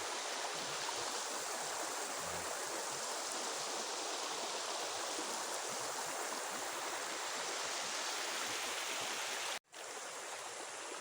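A river at a campsite in Santa Cruz, Laguna flows with a steady, broad rushing hiss, constant and moderately loud, briefly cut off near the end before resuming.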